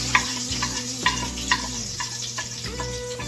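A spoon stirs thick jalapeno popper soup in a pot, close and clear, with a run of irregular scraping and knocking strokes against the pot over a steady low background hum.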